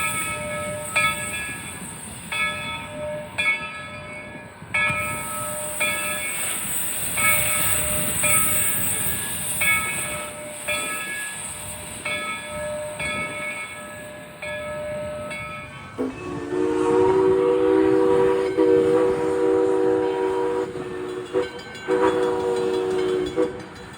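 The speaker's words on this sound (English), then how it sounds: "The 2 o'clock train is departing." A heritage passenger train on the Valley Railroad in Connecticut departs with a steady, hissing rumble and rolling noise. A long, sustained horn blast sounds during the first part and another tone follows later, all without talk.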